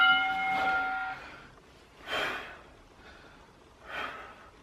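Someone doing ab crunches in a home workout breathes out in sharp, audible exhales, three or four puffs spaced about two seconds apart, close to the mic with no speech.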